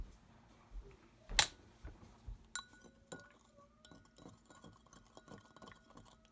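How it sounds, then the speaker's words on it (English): A plastic spoon stirs a liquid mixture in a glass container, producing a run of quick light clinks and taps after one louder knock, close and fairly quiet. "Where's that plastic spoon we used from the last experiment? Here. Stir it up."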